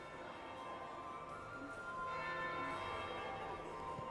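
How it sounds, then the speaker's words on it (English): A church bell tolls in the video game Dragon Age: Inquisition, a sustained ringing tone that swells and hangs over a soft ambient background, distant and fairly faint, with no talking. "That would be the second bell."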